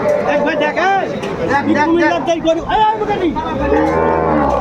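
Cows and calves mooing at a busy cattle market, with repeated close, loud moos rising and falling over a background of crowd chatter.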